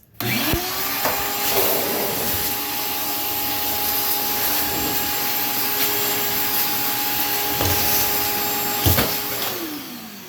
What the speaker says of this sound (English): use a shop vac, but instead of putting your hose on the suction side, put it on the blow side